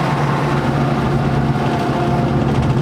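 A newer pickup truck's engine drones steadily while driving on the road, a close, even low hum with road noise and no talk.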